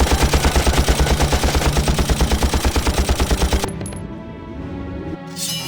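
Rapid, evenly spaced gunfire from a Valkyria Chronicles Remastered battle rattles loud and steady for several seconds, then cuts off, leaving a quieter tonal game backdrop.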